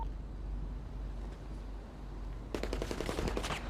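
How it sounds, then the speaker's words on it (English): A rapid burst of gunfire, many shots in quick succession, breaks out after a stretch of quiet room noise. It sounds fairly loud and close, with no talking over it. "Wait, who's shooting?"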